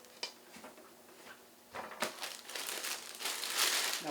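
Plastic wrap being handled while making injeolmi rice cakes, crinkling in scattered bursts that start sparse and quiet and then grow into a steady, louder rustle.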